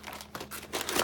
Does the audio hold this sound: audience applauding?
no